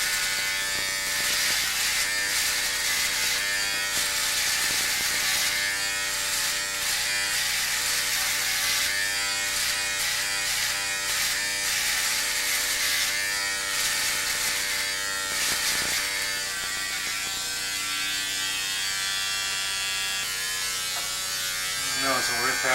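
Electric shaver trimming, a dense steady buzz running continuously near the microphone, with people talking over it throughout on an old home recording.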